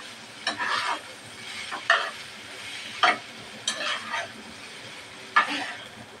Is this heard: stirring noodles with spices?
yes